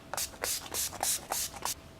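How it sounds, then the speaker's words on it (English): Urban Decay De-Slick oil-control makeup setting spray misting a face in a run of about eight short, sharp spritzes, close and fairly loud, with no talking. "I'm going into the Urban Decay De-Slick Makeup Setting Spray"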